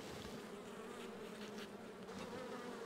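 Dense, continuous buzzing of many honeybees close by at a hive in spring, a steady droning swarm with no pauses.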